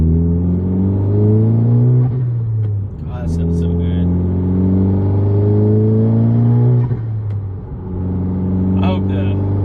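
A car engine, heard from inside with a bare center console and an Acuity short shifter fitted, drones loudly and climbs in pitch through gears, with turbo whooshes and someone talking over it.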